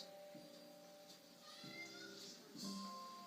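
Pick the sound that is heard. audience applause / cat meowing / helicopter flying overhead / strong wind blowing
cat meowing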